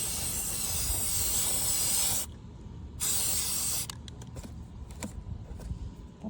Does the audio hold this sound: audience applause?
no